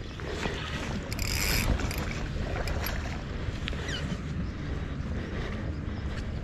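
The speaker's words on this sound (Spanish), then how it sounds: "Miren cómo suena ese carrete." A continuous whirring rush as line strips off a fishing reel during a fight with a Chinook salmon in Aysén, blended with steady water and wind noise.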